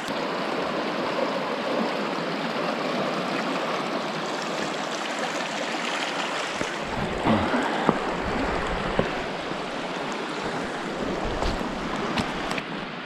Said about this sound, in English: And a real creek.